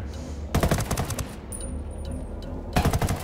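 Gunfire in Ghost Recon Wildlands, with two loud bursts of rapid automatic shots, a short quieter gap with a high ringing tone between them, and a close, harsh sound.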